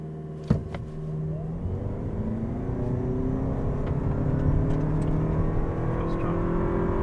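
A 2023 Toyota Prius Prime XSE in sport hybrid mode launching from a brake-torque start, a brief clunk giving way to a steady rising motor and engine whir building in pitch, close and continuous with no talk.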